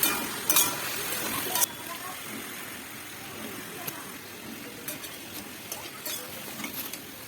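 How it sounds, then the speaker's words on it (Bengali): Winter vegetables fry in a pan while being stirred, a steady sizzle with scraping and shuffling of the spoon, loudest at the start and settling into a softer, continuous crackle with scattered stirring knocks. "এভাবে ভালোভাবে নেড়ে চেড়ে নেব, কতক্ষণ কষিয়ে নেব।"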